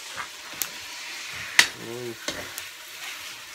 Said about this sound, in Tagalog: Luto kami ng atay, guys, ng asawa ko.